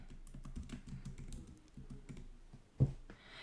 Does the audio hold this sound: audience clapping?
no